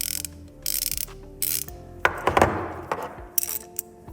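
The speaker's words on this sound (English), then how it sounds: "I don't know if you can hear that, but it's not very smooth on the ratchet" A worn 1/4 inch Craftsman ratchet is worked by hand, giving short bursts of rough, uneven clicking close up, with no talking.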